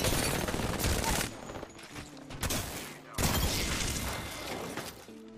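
Dense bursts of automatic gunfire rattle through an Apex Legends ranked match, loud and continuous with a short lull midway, mixed with game effects and brief tones.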